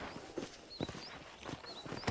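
A horse in the game Red Dead Redemption walks with soft, evenly paced hoof clops at a quiet level, alone, against faint ambient rustle and occasional distant bird calls.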